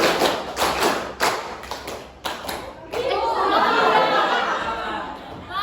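A class joins in a patterned clapping routine, several sharp group claps in rhythm followed by voices and laughter, with people talking in the room.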